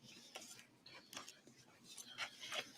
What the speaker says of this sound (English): Gonna have to stir that up a minute.